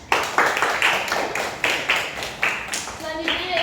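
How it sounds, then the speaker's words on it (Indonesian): A classroom group claps for a student group, a brief round of hand claps coming in a steady series of pulses, with people talking over and between them. "Aplaus untuk kelompok 2."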